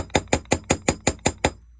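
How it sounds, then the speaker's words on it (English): A hammer strikes a metal stamp resting on a metal blank seven times in quick, even succession, each hit a sharp, close ringing clink, the blows alone with no voices. "I will give it a couple careful hits on hammer to blank"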